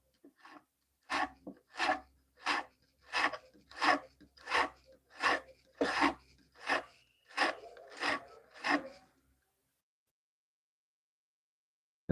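A Stanley No. 4 hand plane iron is rubbed back and forth on a 120-grit stone, giving about a dozen even, rasping strokes in a steady rhythm, close and clear, and then silence.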